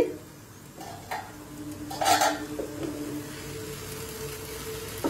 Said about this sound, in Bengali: দেখুন কিভাবে সুন্দর ভাজা ভাজা হচ্ছে আর তেল ছেড়ে দিচ্ছে